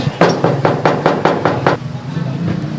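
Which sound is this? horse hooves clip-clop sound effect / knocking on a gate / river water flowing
knocking on a gate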